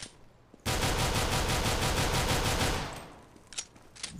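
Pistol fire in the video game CS:GO, a dense rapid burst of shots lasting about two seconds, then a few isolated clicks and knocks.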